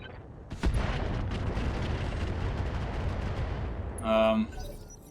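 Weapon fire in the BattleTech Roguetech game at a dropship, heard as a sharp boom followed by sustained rumbling barrage and blasts, loud throughout, ending with a brief tonal electronic burst near the close.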